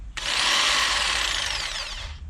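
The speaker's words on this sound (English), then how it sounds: "we're gonna use this jigsaw, my friends, to cut this notch out" A handheld electric jigsaw starts abruptly and runs loud and close for about two seconds, a harsh, buzzing, broadband whine cutting a notch for a spare wheel hatch in a Volkswagen Passat wagon camper.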